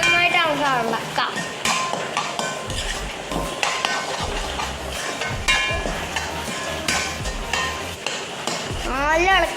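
A salted chicken curry base sizzles in a pot while it is stirred briskly with a metal spoon: steady scraping and clinking over frying hiss, fairly loud and close throughout.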